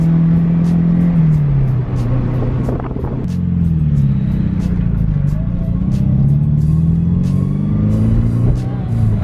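A 1986 Mercedes 190E Cosworth with a newly replaced ignition system is driven gently and shifted around 3,500 RPM, its engine droning loudly up through the revs, dropping at a gear change mid-run, then climbing again.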